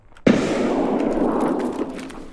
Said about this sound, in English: Got a nade going up, hold on!